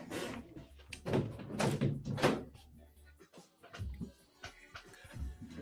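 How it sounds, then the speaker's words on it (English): A door is worked open indoors with several loud clunks and rattling thumps in quick succession, then softer knocks and shuffling against faint background sound. "I need to open this door."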